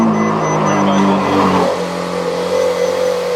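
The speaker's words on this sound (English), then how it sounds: "give y'all the ASMR Ferrari start up" A Ferrari engine starts up, a loud steady idle with a rising rev near the start before settling into a lower, even hum; no one talks over it.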